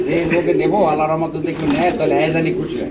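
Soft, continuous cooing of a white pigeon pair, with repeated throaty warbles, close by and steady over a faint background murmur.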